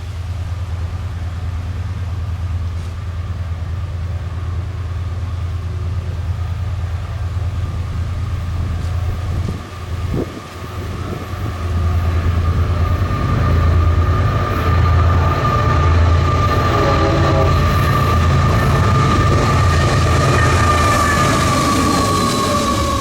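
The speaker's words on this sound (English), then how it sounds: "137 approaching, with a beautiful Canadian Pacific back-to-back duo, with a Gevo leading and AC-44 rebuild trailing second" A Canadian Pacific freight train approaches, led by a GE Evolution Series locomotive with a rebuilt AC-44 trailing second, its diesel rumble growing steadily louder and heavier with rising wheel and rail noise as it draws near.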